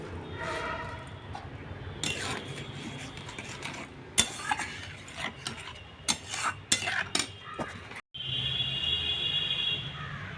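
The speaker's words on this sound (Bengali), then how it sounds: "চলো একটু নেড়ে দিই।" A pan of mango and fish roe sour curry being stirred, with soft metallic scraping and clinks of a spoon against the pan over a steady cooking background, including a few sharper knocks midway.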